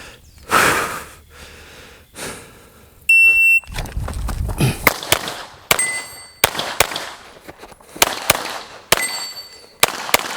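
Glock 17 pistol fired in a shooting drill: about seven sharp, loud shots spaced roughly a second apart, each with a metallic ring, plus a short steel-target clang and rustling movement between shots, with no talking.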